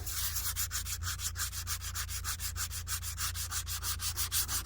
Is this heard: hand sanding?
yes